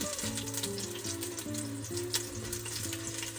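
Onion and garlic pieces set face down in a hot pan for turkey soup fry with a dense, continuous close sizzle, steady and fairly loud with no talking.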